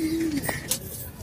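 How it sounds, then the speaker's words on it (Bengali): Male pigeons kept in a home loft give soft, low cooing, a short rising-and-falling call followed by faint rustling and light bird sounds nearby. "এইখানে আমার পাট্টা কবুতরগুলো আছে, এগুলা সব নর কবুতর।"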